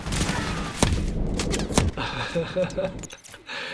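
Shots ring out in Call of Duty 4 Modern Warfare Remastered on Xbox One X: a couple of sharp cracks among scattered firing and game noise, with someone talking over much of it.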